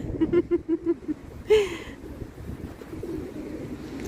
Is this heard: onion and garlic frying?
no